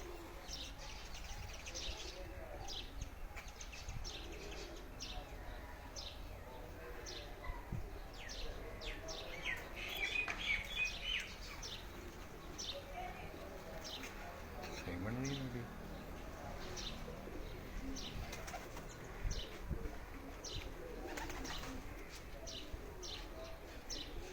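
Badshah breed pigeons at a home loft in Pindi Bhattian coo softly and chirp at a distance, a faint, low murmur of calls under light background noise and occasional voices.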